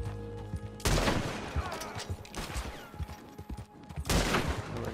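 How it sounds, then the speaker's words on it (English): Springfield rifle shots in Red Dead Redemption 2, three loud booming reports spaced about a second and a half apart, each followed by a rolling echo and scattered gunfire. "Now let's see what we can do with this Springfield rifle."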